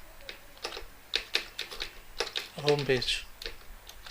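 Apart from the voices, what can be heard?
typing HTML code on a computer keyboard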